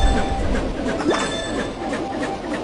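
A train moving in a BabyBus kids' video game, giving a continuous rolling rumble with a brief rising squeal or whistle near the middle, over soft background game sounds.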